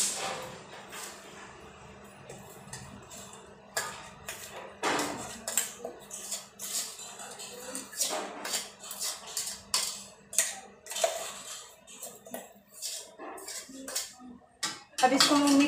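Powdered sugar being mixed in a bowl in a home kitchen, with repeated clinks and scrapes of a spoon against the dish in an irregular rhythm. The sound is close and moderately loud, and there is no talking.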